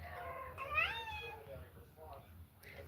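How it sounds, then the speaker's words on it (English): A neighbour's cat meows at a door, one clear rising meow followed by softer murmuring calls, with a person talking nearby and low background hum. "This kitty at my door."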